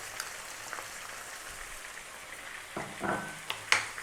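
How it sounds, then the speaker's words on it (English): Onion is dropped into a pan of partly browned beef over medium heat for a curry, giving a gentle, steady sizzle with a few louder crackling bursts toward the end. "We're now going to drop in our onion."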